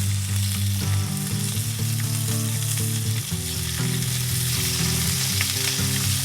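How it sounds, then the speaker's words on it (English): Shrimp sizzle and fry in a hot pan, a loud, steady crackling hiss that runs unbroken and close-up for the whole stretch, with a faint tonal hum beneath it. "All right, our pan's nice and hot. We're going to throw in our shrimp."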